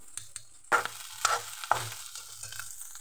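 Ginger, garlic, onion and chilli fry in mustard oil, a soft continuous sizzle broken by a few sharper stirring scrapes against the pan, no voices.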